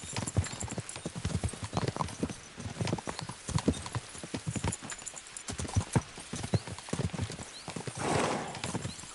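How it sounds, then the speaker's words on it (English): Video-game horses gallop, rapid hoofbeats pounding in a fast rhythm, close and continuous, with a horse whinnying briefly near the end. "We should spur the horses on!"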